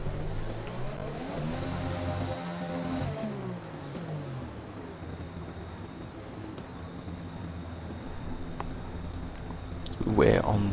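A Formula 1 car engine drones through a formation lap in the F1 2020 racing game, a steady mid-pitched hum that shifts gear and then settles, with a brief rising whine near the end, moderately loud.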